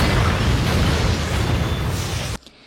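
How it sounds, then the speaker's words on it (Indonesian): Film bomb explosion aboard a boat loaded with money, a loud, deep, sustained roaring blast that fills the whole clip before cutting off abruptly. "Frank membuat sebuah gertakan kepada Tommy Saint dengan cara menyimpan sebuah bom di perahu yang berisikan uang milik Toro Brothers."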